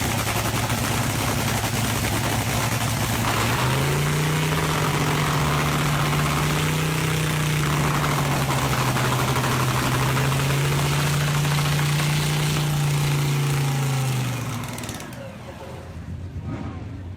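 An antique 1941 Lanz Bulldog 8506 tractor engine runs in a steady loud, low rhythmic chug, its pitch rising and wavering for a while before the sound cuts down near the end.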